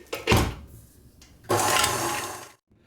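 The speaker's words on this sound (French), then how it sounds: "je vais fouetter ça dans un premier temps à peu près 30 secondes" An electric whisk beating cold liquid cream for a pink forest cake: two loud, close whirring bursts with a short lull between them, then a sudden stop.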